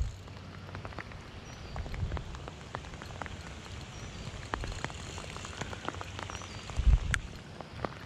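Rain falls steadily on a creek, with soft patter and scattered individual drops striking nearby, a low rumbling hum underneath.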